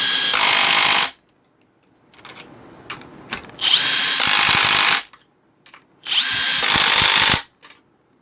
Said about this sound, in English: all we're going to do is tighten these nuts as tight as we can